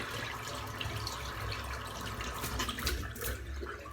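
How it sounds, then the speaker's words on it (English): Water from a tap rinsing out a shaving bowl, a continuous close splashing stream with small spattering bursts, steady throughout. "I just give that a good rinse out."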